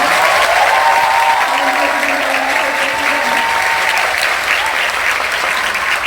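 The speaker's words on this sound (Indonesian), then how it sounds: "Sekali lagi dong tepuk tangan untuk semua" Loud, sustained applause from a large audience at an Indonesian presidential candidates' event, continuous dense clapping held steady from start to finish.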